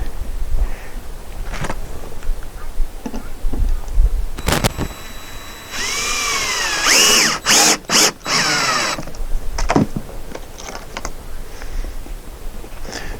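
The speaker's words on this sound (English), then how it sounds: "let's go ahead and get this last piece screwed in" A power drill driving screws into the last roof piece, a couple of close whirring bursts that rise in pitch, mixed with ratcheting clicks, knocks and handling noise around them.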